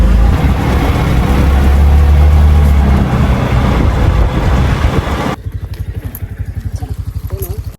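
An auto rickshaw engine rumbles and putters while riding along a road in the Konkan region, loud and buffeted by wind at first, then settling into a fast, steady chugging idle.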